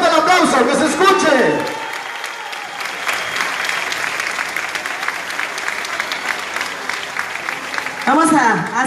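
Sustained crowd applause at an outdoor municipal campaign rally in Villa de Álvarez, Mexico, steady and dense for several seconds, with an amplified announcer's voice at the start and again near the end.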